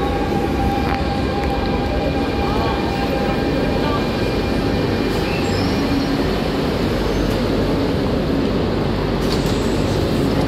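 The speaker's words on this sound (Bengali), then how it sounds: "আরিয়ার এ এসে গেছে।" A Paris RER A commuter train arrives at a station, its loud continuous rumbling roar filling the platform, with thin metallic wheel squeal above it throughout.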